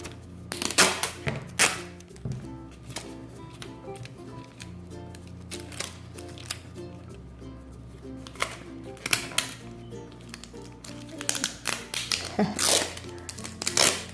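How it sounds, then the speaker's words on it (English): Packaging tape is pulled and pressed onto planner paper, giving sharp crackling rips and scattered taps over a quiet room, in several bursts. "now that I put all my packaging tape down"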